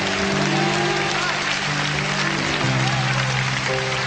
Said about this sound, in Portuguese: Será que você pode aplaudir ao Senhor nesta manhã?